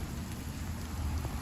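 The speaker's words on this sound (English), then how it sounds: "It is raining right now in Texas" Rain falling outdoors in Texas, a dense steady wash of noise with a deep low rumble underneath, constant throughout and with no talking.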